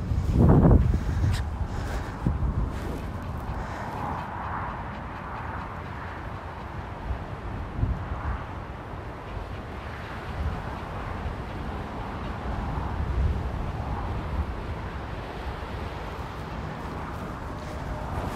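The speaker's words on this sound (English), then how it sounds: "That wind picked up and it's kind of awful." Strong wind blowing outdoors during dog training, a constant roaring rush buffeting throughout with a louder gust at the start.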